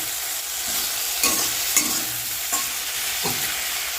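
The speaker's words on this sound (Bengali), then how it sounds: "তরকারিটা বানানো হচ্ছে" Vegetable curry frying in a pan while being stirred, with a loud continuous sizzle and several distinct scraping strokes of the spoon spaced about a second apart, close by and without talk.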